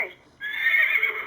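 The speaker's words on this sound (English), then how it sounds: "Hear our horse sound" A horse neigh from a LeapFrog Farm Animal Mash-Up toy plays out as one bright electronic whinny, a short high tone and then a sustained wavering call lasting about a second, loud and close.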